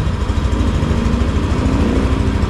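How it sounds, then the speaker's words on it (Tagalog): A Yamaha Aerox 155 V3 scooter engine idles nearby in a steady, low, even hum with no break, loud and close and with no voices. "napakatahimik na makina. Pakinggan yung kanya."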